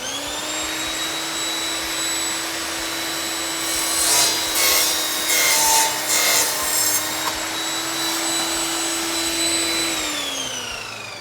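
A RAGE5-S saw with a 255 mm wood blade runs with a steady loud whine and cuts through nail-embedded wood, giving a rough grinding stretch midway before it winds down at the end.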